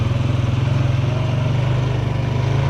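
ATV carrying two riders, shifted down into first gear while circling, its engine running in a steady low-pitched throb with a rapid, even firing pulse, close and loud throughout.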